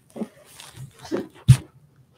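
A puppy whimpers and yelps in a few short, close bursts, with one sharper cry near the end amid soft breathing-like noises.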